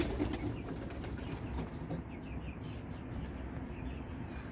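Homing pigeons in a pigeon loft coo softly in repeated low murmurs, with a brief flutter of wings, all under a constant, fairly close background rumble.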